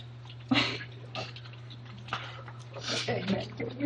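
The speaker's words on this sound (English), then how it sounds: "Stop typing when people are watching." Quick clicky keystrokes tapping on a computer keyboard in a room with a steady low hum, irregular bursts of several ticks with short pauses, fairly close, while people talk quietly nearby.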